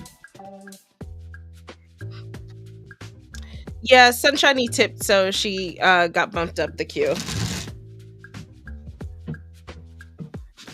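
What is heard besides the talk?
shuffling tarot cards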